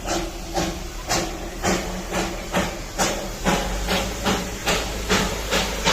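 A Darjeeling Himalayan Railway steam train at Batasia Loop, Darjeeling, chuffs in a steady rhythm, with a loud hissing puff about every half second over a low rumbling engine.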